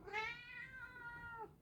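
A cat gives one long, clear meow that rises and then falls, close by in a quiet room, with no one talking.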